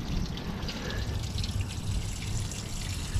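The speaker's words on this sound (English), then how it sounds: "there's water and it's just going where it wants to go" Coolant water drains from an LT1 engine block during an engine flush, a steady trickling, splashing flow with dripping that runs continuously at close range with no talking.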